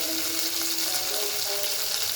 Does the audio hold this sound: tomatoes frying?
yes